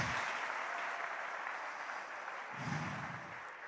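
A church congregation applauding during a service in Montréal: dense, steady clapping from a crowd that fills the whole stretch, swelling slightly near the end.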